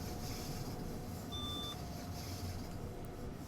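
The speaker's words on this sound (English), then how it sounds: "What's that sound for, the beeping?" A short electronic beep tone sounding once in a train simulator game, thin and fairly faint over a steady low rumble of the train.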